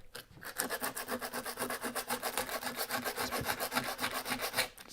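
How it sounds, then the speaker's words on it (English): A strip of 80 grit sandpaper rubbed by hand over aluminium angle gives quick, even, rasping back-and-forth strokes, close and fairly quiet, with no voices. "a piece of sandpaper from over here will do this. A little bit of 80 grit"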